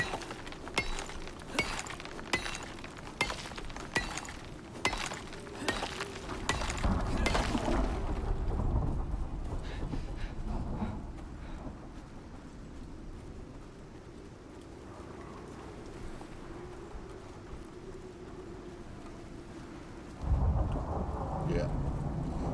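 A video game thunderstorm brings steady rain and a string of sharp crackling thunder strikes early on, then a deep rolling rumble that fades under continuous rainfall, with another low thunder burst near the end.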